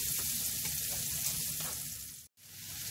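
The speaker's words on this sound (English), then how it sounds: "I'm going to fry off my my mushrooms in that pan now" Mushrooms fry in leftover bacon fat in a pan, giving a continuous crackling sizzle with a brief dropout near the end.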